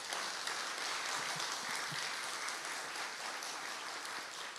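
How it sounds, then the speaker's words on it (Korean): Congregation at Cheongju Dongsan Church applauding during a Sunday service: even, continuous clapping from many hands, fairly faint and sustained throughout without a break. "박수 올려주시면 좋겠습니다."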